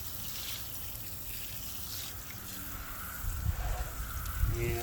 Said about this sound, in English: we're not going to use pressure, we're just going to rinse with just somewhat free-flowing water